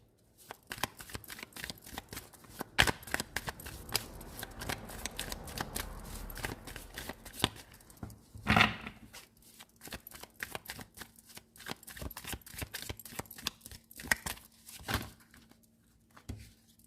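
Tarot cards being shuffled close by, a steady stream of crisp riffling flicks and soft slaps, quiet and continuous, with no talking over it.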